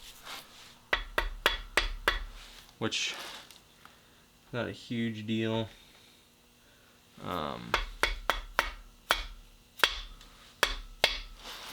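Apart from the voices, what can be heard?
hammering a part into place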